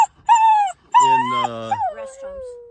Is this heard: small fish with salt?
no